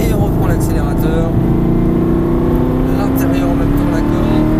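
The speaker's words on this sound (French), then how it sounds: "Hop, et on reprend l'accélérateur." Engine note of a car on a race track climbing in pitch as it accelerates out of a corner, loud and close, with a rising tonal whine and someone talking over it.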